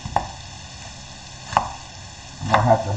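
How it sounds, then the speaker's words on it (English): A knife cuts through a Vidalia onion on a board, giving three distinct crisp chopping strikes spaced about a second apart, close and clear, with no talking. "we got one Vidalia onion. I'm just gonna cut him in half."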